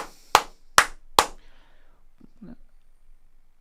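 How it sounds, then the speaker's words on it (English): Three sharp, close hand claps in quick succession celebrating a goal during a Manchester City vs Liverpool match, followed by faint murmuring. "Why am I clapping, lad?"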